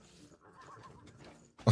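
A horse in a video game lets out a short, loud whinny at the end, after a few seconds of faint background game sounds.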